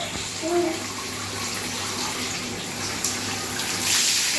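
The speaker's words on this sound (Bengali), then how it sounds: "ঝর্ণা স্নান করতে ভাল লাগে বাবা" Shower water runs steadily during a small child's indoor bath, a continuous hissing spray with a brief faint voice in the background.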